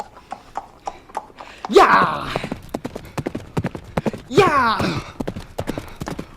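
A horse's hooves clip-clop at a fast, brisk pace, sharp rhythmic strikes close by, broken twice by a person's excited shouting.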